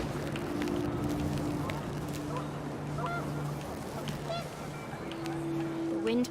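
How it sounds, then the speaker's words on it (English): Panicked geese honk and cackle from the game What Remains of Edith Finch, with repeated brief calls at mid distance over a steady wind-like ambient bed, and a voice murmuring faintly beneath. "The wind picked up and panicked geese appeared and quickly went."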